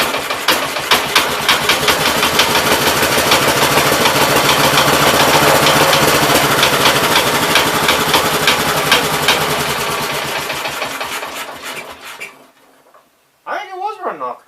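The engine of a 1969 Gravely 432 tractor, which is knocking and smoking, runs loud and close with a fast rattling chug for about twelve seconds, then sputters and dies; someone speaks briefly just after.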